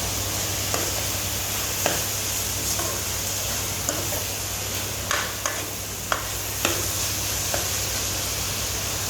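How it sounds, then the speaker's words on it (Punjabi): A tadka of spices for a tangy, spicy potato curry sizzles steadily in a hot pan, broken by occasional sharp clinks from a stirring spoon; a low hum runs underneath and no one speaks. "ਹੁਣ ਸਾਡਾ ਤੜਕਾ ਜਿਹੜਾ ਥੋੜਾ ਭੁੱਜ ਚੁੱਕਿਆ ਆ"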